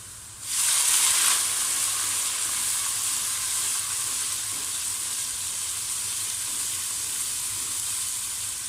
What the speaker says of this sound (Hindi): अब मैं अदरक लहसुन का पेस्ट शामिल करूँगा